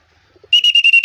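Someone in a village blows a sharp, shrill whistle to send pigeons flying, after a brief quiet moment. It comes as a rapid series of about five loud, pulsing blasts close to the microphone.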